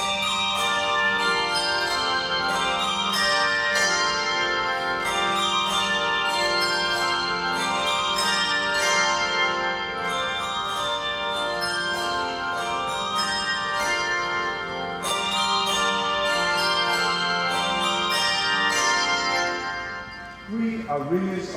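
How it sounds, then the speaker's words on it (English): Bell ringers ring bells together at a 2018 opening ceremony in a continuous, dense wash of overlapping metallic tones with rhythmic strikes, while a voice speaks over the ringing throughout. "We are ringers of bells, each one who rings a vital part that makes the whole"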